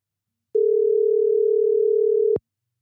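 A landline telephone dial tone, one steady unbroken hum lasting about two seconds, loud and alone, ending with a click as the line is checked.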